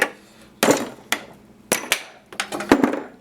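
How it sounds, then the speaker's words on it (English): A hammer strikes a metal punch to drive an old hammer head off its handle, giving about eight sharp, close metallic whacks in uneven bursts. "We're going to use this punch and just see if we can't whack this thing out"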